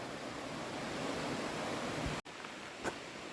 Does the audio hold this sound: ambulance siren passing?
no